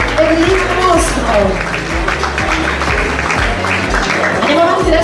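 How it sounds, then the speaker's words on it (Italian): An audience applauds at a beauty pageant final in Dolo, near Venice, with a dense, steady clapping under a loud announcer's voice and background music. "Complimenti, un applauso per il nostro."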